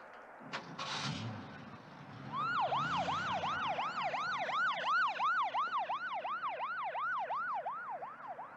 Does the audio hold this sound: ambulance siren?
yes